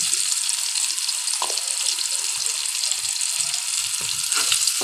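Onion and tomato sauté in a pan for chicken rassa, giving a steady close sizzle throughout with a few soft stirring knocks and scrapes and no voices.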